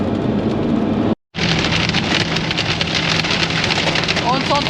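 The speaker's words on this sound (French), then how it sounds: "Maintenant, c'est la grêle qui nous tombe dessus." Heavy rain and hail pelt a vehicle during a thunderstorm on a road trip through Russia, a loud dense hiss and drumming on the roof that drops out briefly, then resumes, with faint voices underneath.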